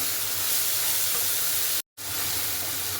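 Water poured into spice paste frying in a pan for a Bengali potol dorma, giving a loud, steady broadband hiss and sizzle that runs the whole time, broken by one brief dropout.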